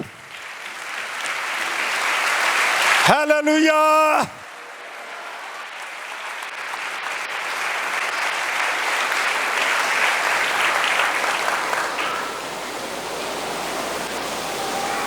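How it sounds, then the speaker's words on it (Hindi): A church congregation at a Hindi-Urdu sermon claps steadily in sustained, dense applause that continues throughout, briefly overlapped by a shouted exclamation from the preacher. "किसी दा दिल कीता ही ताली बजाउण ते बजा लो।"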